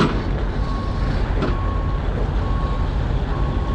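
A loaded truck with a trailer reverses at a crowded truck stop, its backup beeper sounding in steady evenly spaced tones over a loud rumbling idle engine.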